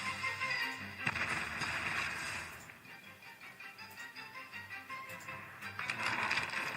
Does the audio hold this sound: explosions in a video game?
yes